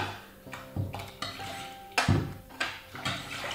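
A spoon clinks and scrapes against a pot while melted chocolate is stirred into a milk, cornstarch and sugar mixture for a chocolate dessert cream, with several distinct knocks in uneven rhythm.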